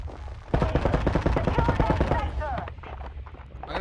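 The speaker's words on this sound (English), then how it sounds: "I'm gonna try shooting an explosive." Rapid automatic gunfire from the video game Boundary rattles in a loud, sustained burst, close and dense, tapering off into scattered shots and game noise.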